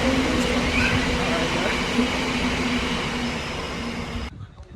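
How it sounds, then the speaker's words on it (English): A long train passes overhead as a continuous, loud, broad rumble with faint wheel squeal, cutting off abruptly near the end. "That's a long train."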